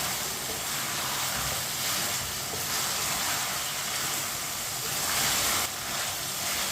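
Ginger and garlic fry in a pan as the base for a Shinwari karahi, with a continuous loud hiss of sizzling oil and faint scraping from a spoon stirring now and then. No voices are heard.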